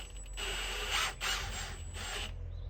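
A screwdriver turns a set screw into the top of an AirBim V3 mount, giving a few short bursts of ratcheting mechanical clicks, close and quiet, with no voices.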